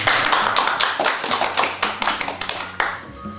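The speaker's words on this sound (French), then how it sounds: "on applaudit Yves." A small group claps at an art-therapy end-of-year gathering in Madagascar, the individual hand claps distinct and uneven, thinning toward the end with no talking over them.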